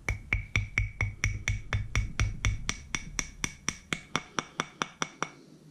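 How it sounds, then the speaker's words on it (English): Rubber mallet with a plastic face tapping a pin into a GHK G5 airsoft magazine: about two dozen sharp, evenly spaced taps, close and crisp, with a low rumble under the first half and no talk. "Again, using rubber mallet, plastic end."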